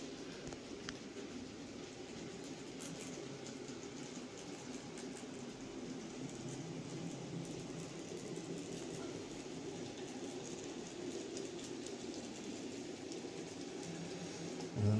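Model railway locomotive hauling Yeoman hopper wagons, a steady faint rumble and rattle of rolling stock that continues evenly throughout.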